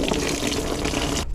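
Water spills and splashes from a car part at a junkyard, a steady loud gushing pour lasting just over a second before stopping abruptly.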